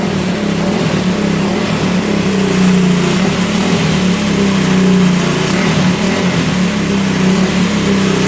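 A 1974 Honda motorcycle engine runs steadily at close range, loud and continuous, with a throbbing low rumble and mild swells as the throttle is blipped and revved over eight seconds, no voices.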